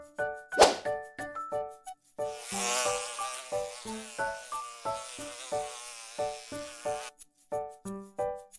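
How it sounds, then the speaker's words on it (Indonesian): A fly buzzes in rapid, pulsing bursts close by, with a sharp spray-like hiss near the start, and no talking. "Lalat."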